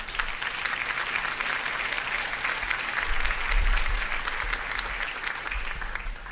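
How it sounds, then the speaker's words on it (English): Canned polite applause, played as a sound effect during a Christmas radio show, forms a steady patter of clapping from a modest crowd, even and moderately loud from start to finish. "I've got some polite applause"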